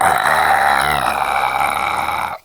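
A person imitates a gurgly burp with a loud, continuous, throaty rumble lasting about two seconds, close to the listener, before it cuts off sharply.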